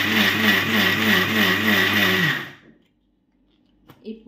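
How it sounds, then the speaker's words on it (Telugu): A kitchen mixer grinder whirring as it blends cooked rice with water, a loud steady motor drone with a rhythmic pulsing churn, then cutting off abruptly into near silence and a few faint clicks. "కొన్ని వాటర్ వేసి మిక్సీలో తిప్పుకోవాలి."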